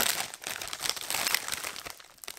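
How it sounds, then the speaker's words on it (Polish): Plastic grocery packaging rustling and crinkling up close as bags of shopping are handled, a dense continuous crackle with brief quieter gaps and no talking. "wiem, że szeleszczę wam, przepraszam was za to"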